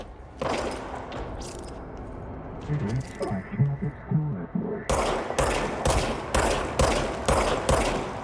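Gunfire in a video game. Scattered shots and rumbling sit under a voice at first, then a rapid series of loud, sharp shots follows in a steady rhythm.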